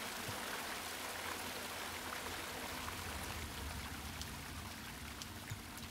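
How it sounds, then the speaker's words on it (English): Steady rushing of a waterfall in the video game The Longing, a dense, even wash of flowing water that stays constant throughout with no pauses, moderately loud and close. "The beauty of this waterfall reminds me why I love to serve the king."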